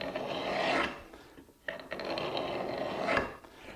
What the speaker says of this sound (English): you set it on the wood, and it's actually a scraper